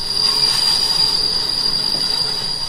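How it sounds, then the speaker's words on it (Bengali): A cartoon train screeches to a halt in the middle of a field, a loud high-pitched metallic wheel squeal ringing steadily over rumbling rail noise, close and sustained throughout. "কানাই কিছু বলার আগেই ট্রেনটা ক্যাচ করে থেমে গেল"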